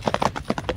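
A racehorse's hooves clip-clop in a quick, close rhythm of about six sharp hollow knocks, galloping past.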